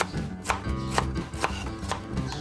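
Vegetables being finely minced with a knife on a board, a quick steady run of close, crisp chops, about two per second, with no talking.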